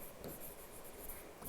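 Someone writes on a board during a science and technology class, faint steady scratching strokes across a quiet room, with no voices.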